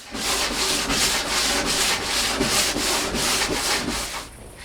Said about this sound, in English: The final sanding is done by a 240 grit paper.